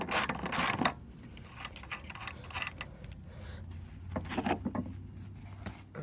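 A 9/16 socket wrench ratchets on a Craftsman riding mower wheel with quick clicking bursts at the start and again later, and light metallic handling between them.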